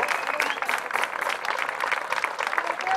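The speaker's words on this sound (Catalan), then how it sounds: "Un bon aplaudiment per la Comissió de Festes de l'Associació de Sant Pere i Sant Pau." Crowd applause for the festival committee at a summer night verbena dance of the Sant Pere festivities, a fairly faint, steady wash of clapping from a gathered audience.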